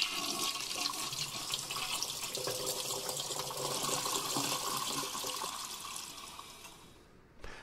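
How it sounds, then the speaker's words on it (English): A toilet flush in the Darkness Within horror game roars as a loud rushing gush of water, sustained for several seconds before quickly tapering to a faint trickle. "That's a very violent flush."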